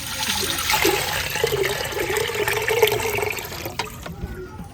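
Water poured into a cooking pot set over an outdoor fire in a village kitchen, a loud, close, continuous gushing splash that tapers off near the end.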